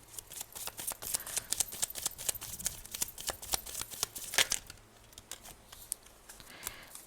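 Tarot cards shuffled in rapid bursts of crisp riffling and slapping, fairly close and steady for several seconds, with no talking.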